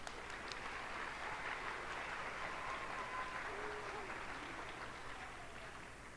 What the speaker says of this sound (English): One more round of applause for these amazing students.